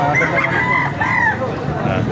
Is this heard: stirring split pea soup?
no